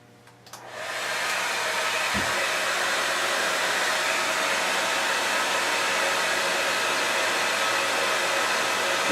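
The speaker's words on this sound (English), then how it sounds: "now we're going to turn on the hairdryer and direct it at our Raspberry Pi" A hair dryer aimed at a Raspberry Pi temperature sensor switches on and blows with a steady, loud whooshing roar that continues unchanged to the end.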